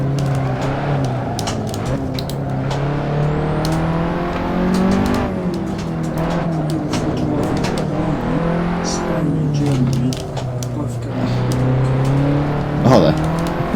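A race car in Assetto Corsa drives at high speed, its engine whining in rising and falling pitch sweeps through gear changes and braking, with people talking over the steady engine note.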